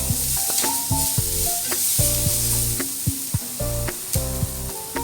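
Half a capsicum frying and being stirred in a pan for tacos, with a steady sizzle under repeated scraping and clacking strokes of the spoon, close and fairly loud.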